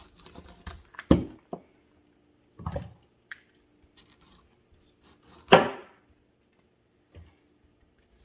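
A knife cuts a head of cauliflower into sections on a board, giving a few separate sharp chops and crunches spaced apart, one louder thunk standing out, with quiet pauses between.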